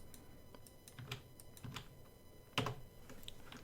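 Quick, crisp clicks of numbers being typed on a computer keyboard during 3ds Max modelling work, a few scattered keystrokes and then one louder burst near the end, close and alone without talk.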